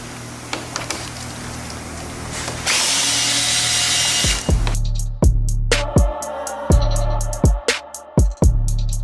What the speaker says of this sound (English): You can also use a drill. I use it on the lowest setting.